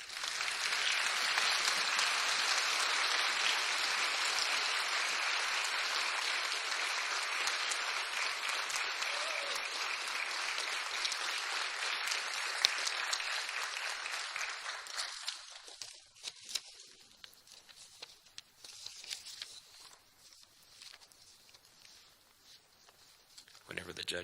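Crowd applause for the 2014 Miss Strassenfest pageant candidates: a full, steady wash of clapping for about fifteen seconds, then thinning into scattered claps and quiet room noise.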